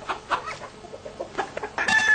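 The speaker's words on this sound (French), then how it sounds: "les poules sont en pleine forme" Hens cluck close by in a farmyard coop, with a quick series of busy, chattering calls and a louder, sustained squawk at the end.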